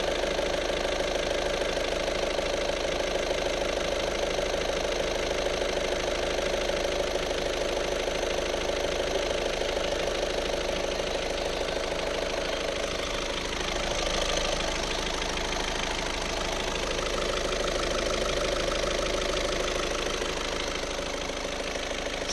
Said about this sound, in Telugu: ఇంజన్ నాయిస్ ఎలా ఉందో ఒకసారి చెక్ చేయండి.